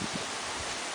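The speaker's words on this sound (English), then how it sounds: "It's windy." Wind blowing outdoors on a chilly fall day beside a pool, with falling leaves rustling in a soft, steady broadband hiss, brief and fairly quiet, with no talking.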